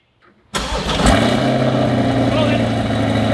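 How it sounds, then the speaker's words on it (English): A 2020 Corvette fitted with a Soul exhaust cold-starts with a sharp bark of ignition, then settles into a loud, steady, rumbling high idle right up close, with no talk over it. "how about a cold start for the Soul exhaust?"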